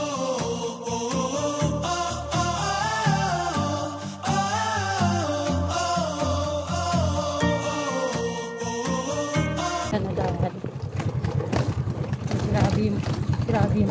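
Horses clip-clop along a rough roadside, their hooves beating in a steady rhythm. The hoofbeats are mixed with other busy background sound, and a dense, loud texture shifts near the end.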